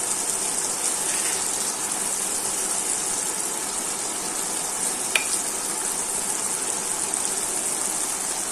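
River poa fish cooking down in a pan for a Bengali bhuna gives an even, moderate sizzle throughout, broken only by a single brief click partway through.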